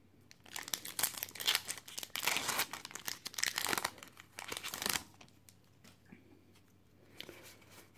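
A stack of Pokémon trading cards from Lost Thunder booster packs being straightened and shuffled, dense crinkly papery rustling for several seconds that thins into quieter scattered card taps, no voices.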